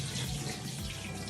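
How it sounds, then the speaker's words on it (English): Water runs steadily like a tap stream as it drains away from soaked pakodas being strained, a continuous close splashing flow with no voices. "You have to strain the water now from this one."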